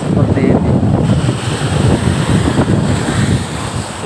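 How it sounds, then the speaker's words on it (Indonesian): Ocean waves surge and roll along the west coast of Lampung, a loud, continuous churning wash with heavy wind buffeting the microphone and no pauses. "Ini beberapa jam ombaknya seperti ini."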